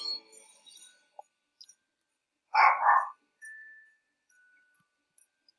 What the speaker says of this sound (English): Just my dog, Ellie.